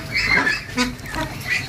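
Ducks on a duck farm give a few loud, close, nasal quacks in quick succession.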